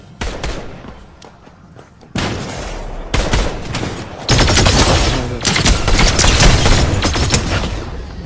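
Dense bursts of SMG machine gun fire ring out in Fortnite gameplay, rapid loud volleys starting and stopping in separate strings, growing heavier and nearly continuous toward the end.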